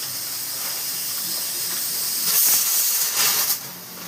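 A pressure cooker whistles as it releases steam while curry cooks, a loud, continuous hissing jet that swells near the end and then eases off, with no one talking.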